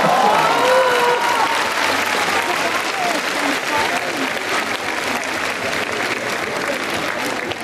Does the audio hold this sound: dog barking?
no